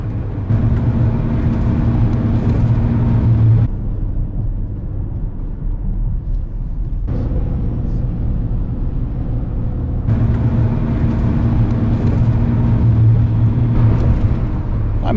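Steady road rumble of an RV cruising a highway in light traffic on a clear day, a continuous low drone with brief quieter stretches where the noise drops away before returning.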